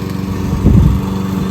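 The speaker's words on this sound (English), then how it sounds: "There's Babe, mowing the lawn, doing a good job." A lawn mower runs close by in a garden, a steady buzzing drone that swells briefly in the middle before settling back to an even hum.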